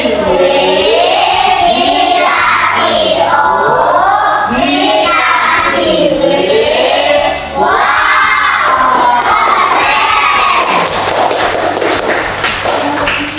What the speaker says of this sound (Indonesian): Beri tepuk tangan buat kelompok 1 atas nama Karimah.